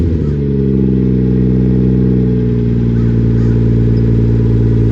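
A Nissan 370Z Nismo fitted with a turbocharged Toyota engine and a titanium Tomei exhaust revs up, then holds a loud, steady, resonant drone with rising harmonic tones, heard up close.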